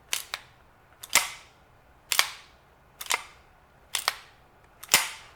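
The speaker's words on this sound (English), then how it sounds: "Now I'm going to run the slide a couple of times just so you can hear what's happening here." Springfield Professional pistol slide racked six times in a slow, even rhythm, each cycle a sharp metallic clack followed by a quick snap, close and crisp with no one talking.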